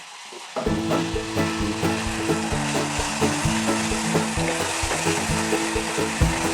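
Mutton fat curry fries and sizzles steadily in a pan, a dense crackling hiss that begins abruptly and continues loud and close with light scraping of stirring throughout, no voices.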